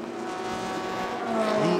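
Race cars from the Thailand Super Series 2017 at Chang International Circuit roar through a corner, their engines loud and continuous, the pitch climbing as they push on.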